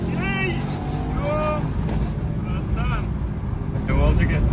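A car being driven, a constant low engine and road rumble with wind buffeting close by, while someone talks over it throughout.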